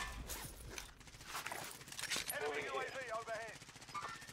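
Gunfire in the Call of Duty Warzone video game: sharp bursts and cracks cutting through a busy, cluttered mix, partly masked by voices talking over the action.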